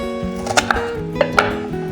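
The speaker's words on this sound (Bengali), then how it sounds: "এবার পেঁয়াজটাও এরকম চৌকো চৌকো করে কেটে নিচ্ছি" Knife chopping an onion into squares in a home kitchen, a few sharp, separate cuts against a board, close and moderately loud over a faint hum.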